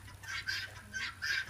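Chickens or roosters clucking in a short series of repeated, fairly close calls, with no voices.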